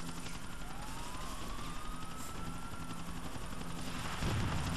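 Helicopter rotor and engine drone in the video game GTA 4: The Ballad of Gay Tony, a steady loud whir filling the whole stretch with a rising engine whine and a brief thump near the end.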